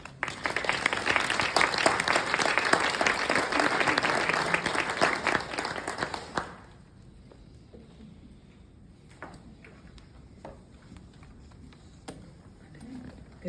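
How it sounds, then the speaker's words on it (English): Audience applause welcoming Tina Miles to speak at a St Joseph's Health session on yoga research and anxiety, a loud steady clapping for about six seconds that stops abruptly, leaving a quiet room with a few faint knocks and shuffles. "We should invite her with a round of applause."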